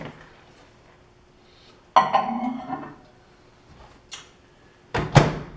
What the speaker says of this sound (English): Here you see the mix is going into the microwave.